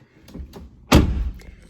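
A Jeep door is handled as someone climbs in: a few light clicks and rustles come first, then one solid, close thump of the door closing that fades quickly into quiet movement.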